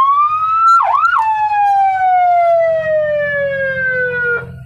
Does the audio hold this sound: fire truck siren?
yes